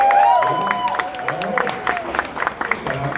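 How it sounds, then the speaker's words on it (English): An open-mic crowd claps and cheers in a mixed burst that starts loud, then thins into scattered clapping and murmuring voices toward the end. "Clap it up if you're here to like see somebody go up."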